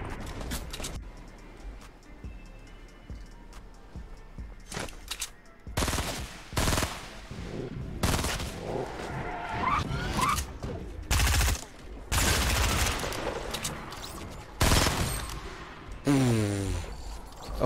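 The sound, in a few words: AK-47 burst gunfire in video game Fortnite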